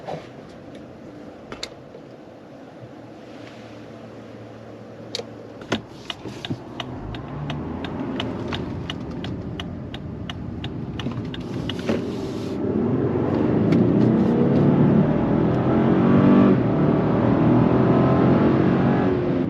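A 2023 Lexus LX600 F-Sport SUV in sport mode builds from a low idle into a steadily rising, louder engine roar as it accelerates, heard from inside the cabin with faint clicks early on.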